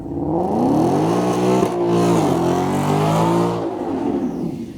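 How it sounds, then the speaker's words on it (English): A 750 horsepower Shelby Super Snake Mustang on street tires in cold weather, its engine revving loud and close in a rising, falling roar that holds for several seconds and then eases off. "We have a 750 horsepower Super Snake behind me."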